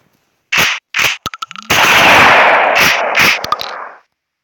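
Shotgun fire and pump reloading in the mobile shooting game i Gun Pro, a few sharp close blasts, then rapid mechanical clicks and a long roaring burst that fades out.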